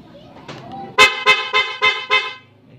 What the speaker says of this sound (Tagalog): Sniper 150 with the way alarm synchronized to horn.